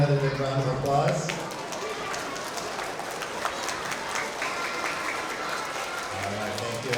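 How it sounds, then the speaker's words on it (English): An audience at a kindergarten through second grade school award assembly applauds a student, with steady, moderately loud clapping that holds for several seconds, and an adult voice speaks briefly at the start and end. "Let's give Abby another big round of applause."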